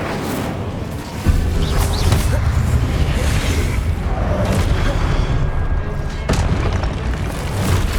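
The Incendio fire spell is cast in the video game Hogwarts Legacy, a loud, sustained roaring burst of flame that kicks in abruptly and rumbles on steadily with scattered crackles and whooshes.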